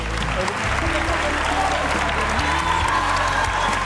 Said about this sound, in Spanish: Un aplauso para ti, entonces.